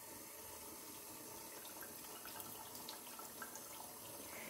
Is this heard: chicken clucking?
no